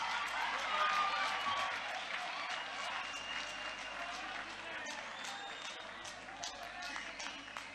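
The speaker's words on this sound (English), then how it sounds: "Let's applaud the young people for all that they stand for." An audience claps for young people at the Youth Day 2022 celebration led by Ramaphosa; steady crowd applause continues across the whole stretch, slightly fading toward the end.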